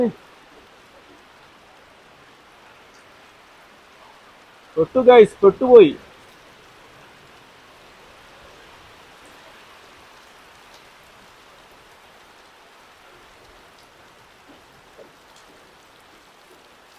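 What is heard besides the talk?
heavy rain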